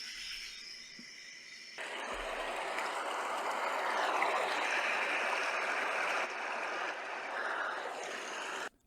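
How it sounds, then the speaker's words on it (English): A broad, steady rush of running water flows beneath faint chirping, like a creek heard from a short distance. The sound swells after a quiet start and stays even throughout. "That's when I heard something in the distance. It was the sound of running water."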